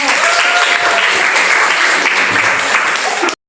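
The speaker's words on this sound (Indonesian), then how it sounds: "Tepuk tangan buat kelompok 1." A classroom group claps for Group 1 after a presentation, a dense, steady burst of close applause that stops abruptly after about three seconds.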